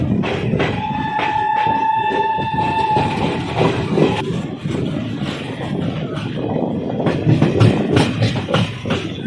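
The Amritsar-Haridwar Jan Shatabdi Express pulls out of Phagwara Junction railway station, its horn sounding near the start over continuous wheel and coach rumble, with rhythmic clicks of wheels over rail joints as it gathers pace.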